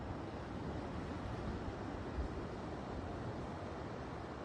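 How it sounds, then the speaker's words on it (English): Small, half-foot ocean waves wash onto a quiet San Juan Islands shore as a soft, continuous broadband rush, faint and steady, with wind noise mixed in and no distinct individual breaks. "finding waves with no one around, even if they're only half a foot tall"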